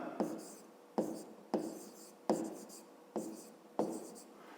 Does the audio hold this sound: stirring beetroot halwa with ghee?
no